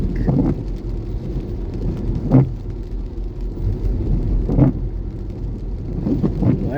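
Rain patters steadily on a car during a storm, heard from inside with a low rumble and a few dull thumps spaced a couple of seconds apart.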